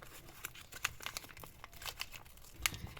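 A toy box package torn open, with close, quiet crinkling and tearing of a plastic wrapper in irregular rustling bursts and no talking.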